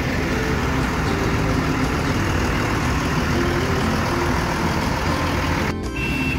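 A Hino-engined Morodadi Prima bus idles with a steady, loud, dense rumble that holds constant throughout, with no talking.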